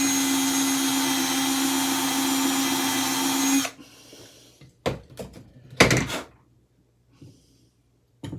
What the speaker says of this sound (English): Drilling out all this metal, which I don't think these are metal screws, drill bits.